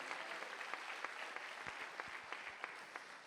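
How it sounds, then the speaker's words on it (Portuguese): Church congregation applauding, a faint, steady patter of many hands with a few sharper individual claps standing out, heard from a distance. "aplauda ao Senhor Jesus"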